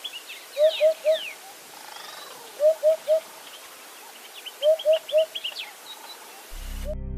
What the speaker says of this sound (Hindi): हुदहुद यह नाम इसकी आवाज से पड़ा है। आप भी इसकी आवाज सुन लीजिए।